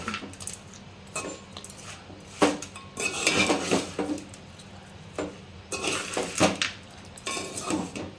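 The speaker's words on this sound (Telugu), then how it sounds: "రైస్ వేసుకున్న తర్వాత చిన్న ఇట్లా కలుపుకోవాలి" Rice being stirred in a pan for lemon rice, with metal spoon scraping and clinking against the pot in irregular bursts, close and fairly loud, no talking.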